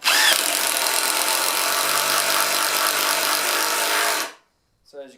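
A ToolPRO impact driver drives a screw into a 200mm by 50mm piece of pine, a loud sustained rattling whir lasting about four seconds before stopping, followed by a brief voice.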